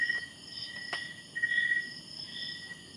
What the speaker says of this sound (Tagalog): Mas malakas pa rin yung tunog ng kuliglig.